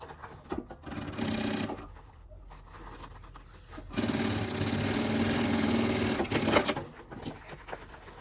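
Sewing machine stitching a large fabric pouch in two sustained runs of steady whirring, close and loud, with short pauses and handling clatter between them.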